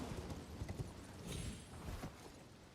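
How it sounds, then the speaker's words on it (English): Horse hooves clip-clopping in the video game Elden Ring, a quiet, steady rhythmic trot of repeated soft thuds at a modest distance, with no talk over it. "Get off the fucking horse, bro."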